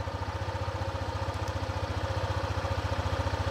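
A 2021 Honda ADV 150 scooter engine idles steadily up close, a low, even, rapid putter that stays constant throughout, with no voices.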